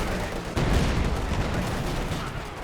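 An artillery barrage in Company of Heroes 2 forms a dense, continuous roar of overlapping explosions and gunfire. A heavier blast lands about half a second in, then a thick rumbling wash of impacts follows.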